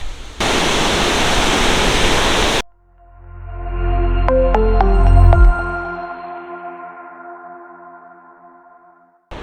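Ba Hao Waterfall in the Vietnamese jungle pours with a loud, steady rushing hiss for about two seconds, then cuts off abruptly and gives way to a swelling, fading synthetic tone.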